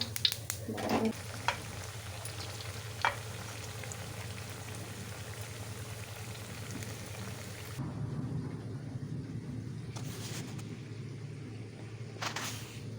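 Kothimbir vadi, coriander fritters, deep-fry in plenty of oil with a quiet, steady bubbling sizzle over a low hum; a few soft clinks appear, and the texture shifts partway through.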